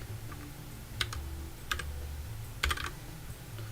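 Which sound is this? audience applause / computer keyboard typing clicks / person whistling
computer keyboard typing clicks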